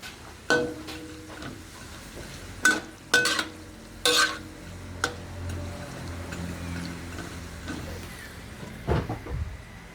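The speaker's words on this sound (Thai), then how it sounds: "ทอดประมาณสามนาทีค่ะ พอแล้วค่ะ ปิดไฟ" Thai pork cracklings (khaep mu) frying in hot oil, a steady low sizzle broken by scattered clinks and knocks of utensils and a pan, close by, without speech.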